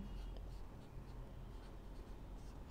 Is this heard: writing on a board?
yes